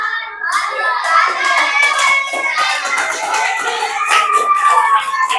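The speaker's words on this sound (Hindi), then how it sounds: "हाँ, तो ताली काहे बजा रहे हो?" Schoolchildren in a Class 6 math class clap their hands in a lively, uneven patter of sharp slaps that lasts several seconds, close and loud, with children's voices chattering underneath.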